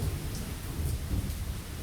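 Steady rain falls in the video game Lost Horizon at a tiny, deserted train station, a dense, even hiss with a low rumbling undertone, unbroken and without voices.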